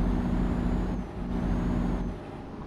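A heavy truck in Euro Truck Simulator on a trip from France to Switzerland, its low engine drone steady with a brief hiss of air brakes cutting in, close and continuous, no voices.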